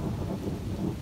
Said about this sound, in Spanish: Acá estamos con Sandra, nos agarró la lluvia